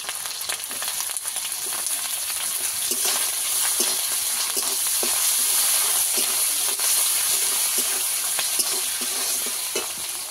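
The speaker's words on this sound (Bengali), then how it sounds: "সব কিছু একসঙ্গে ভালো করে একটু ভেজে নেব" Capsicum and tomato frying in a pan for egg curry, a steady close sizzle with frequent scraping and clicking of a spatula as the vegetables are stirred, with no voices.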